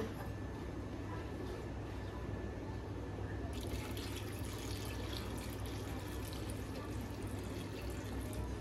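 Water pouring steadily into a pressure cooker holding white peas while cooking pani puri filling, a continuous splashing gush that grows brighter and fuller midway, close and alone without talk.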